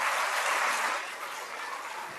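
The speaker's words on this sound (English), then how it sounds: "Let's all once again give a huge round of applause so that the clappings reaches him." A conference audience at an inaugural session of a semiconductor event applauds. The clapping is soft and distant and tapers slightly after the first second into a steady, faint wash.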